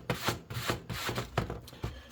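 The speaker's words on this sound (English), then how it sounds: "Let's go ahead and sand this guy." Sandpaper scrubs a model railroad track switch in a steady series of short rasping strokes, about eight quick back-and-forth passes, close and fairly quiet with no talk.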